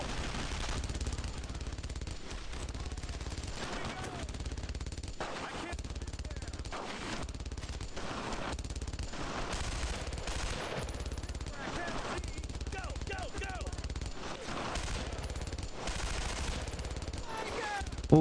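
Sustained World War II battlefield gunfire in Brothers in Arms: Road to Hill 30, with dense machine-gun bursts and rifle shots crackling continuously over a rumbling backdrop, with shouting voices faintly mixed in.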